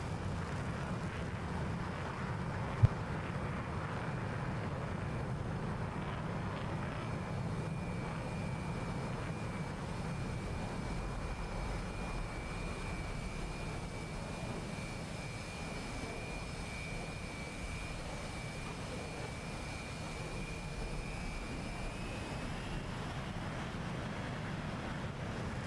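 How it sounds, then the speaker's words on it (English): Jet aircraft in an air combat video game take off one after another, making a continuous roaring engine rumble with a rising whine, steady and fairly loud throughout, with a brief click early on and no talking. "And here we'll see the first plane take off"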